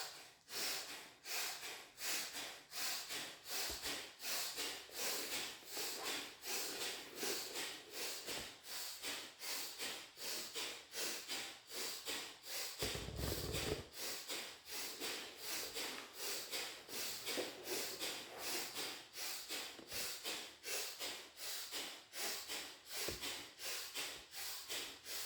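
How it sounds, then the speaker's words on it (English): Bhastrika yoga breathing: a long run of rapid, forceful nasal breaths with quick inhales and sharp exhales, evenly pulsing in a steady rhythm, close and clear with no talking. "now start to do quick inhale and sharp and quick exhales"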